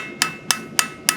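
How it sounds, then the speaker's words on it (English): A blacksmith's hammer taps metal on an anvil four times in an even, quick rhythm, each strike a bright, ringing clink heard close and alone. "That movement then creates the little tippy tappies."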